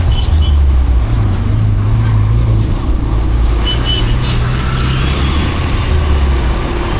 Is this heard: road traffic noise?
yes